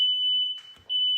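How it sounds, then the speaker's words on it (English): A household smoke detector goes off during cooking, a loud steady high-pitched tone that drops out briefly and returns, with a faint kitchen clatter in the gap. "Sometimes my smoke detectors are too sensitive"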